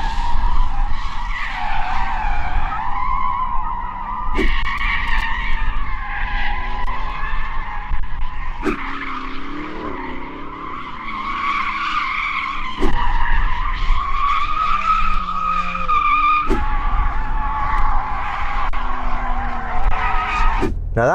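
Several Porsche cars, among them a Cayman, spin their tyres to warm them before a straight-line race, giving loud, sustained tyre squeals with wavering pitch, broken by short sharp bursts and backed by engine roar.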